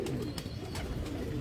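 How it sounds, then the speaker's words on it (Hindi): Pet pigeons kept by a pigeon fancier in Lahore coo in a steady, throaty murmur, close and continuous for a moment. "क्या कबूतर है माशाल्लाह"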